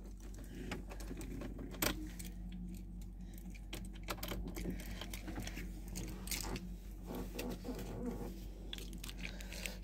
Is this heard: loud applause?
no